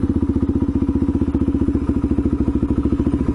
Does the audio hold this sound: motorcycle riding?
yes